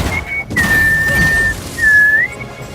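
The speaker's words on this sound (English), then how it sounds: "as she mourns her sister, she whistles softly" Helena, Natasha's sister in Black Widow, whistles softly in two clear sustained notes, the second rising at its end, over a quiet background.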